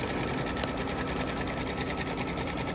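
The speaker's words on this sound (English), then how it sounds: "this appears to be doing some type of like triple stitch" Embroidery machine running a triple stitch on a Kimberbell lace pumpkin design, a loud steady rapid needle rhythm with a mechanical hum throughout, close and continuous.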